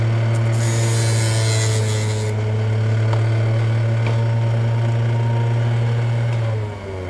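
A file scrapes excess plastic off a Hot Wheels Chrysler Pacifica model car, a close rasping rub over a loud steady motor hum that cuts out near the end.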